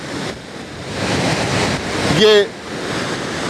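The Tamas river plunges over Purwa waterfall in a steady, full roar of rushing water, with someone talking over it and a brief higher tone rising near the end.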